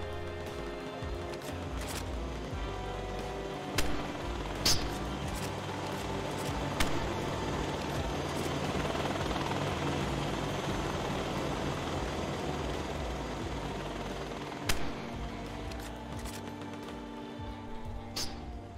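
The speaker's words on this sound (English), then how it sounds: "somebody's flying their heli over. What the hell, bro? It's an Apache." Apache attack helicopter in the survival game DayZ passing overhead, a steady broadband rotor and engine wash holding across the whole stretch with a few sharp clicks on top, no talk.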